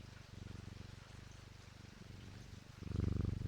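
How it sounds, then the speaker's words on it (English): A pet cat purring while being stroked in the video game Strange Antiquities, a low steady rumbling purr that carries on throughout and swells louder near the end. "You can pet the cat."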